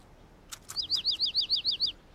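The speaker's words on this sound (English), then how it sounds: "Caillou was startled and excited to hear the bird chirp." A little cartoon bird chirps in a quick series of about nine bright, evenly spaced tweets after two short clicks, close and clear against a quiet background.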